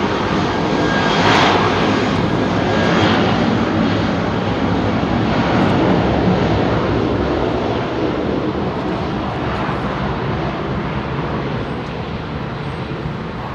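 Jet aircraft engines roar continuously at close range beside runway 27R at London Heathrow, a broad steady rumble that swells slightly and eases toward the end, with no voices.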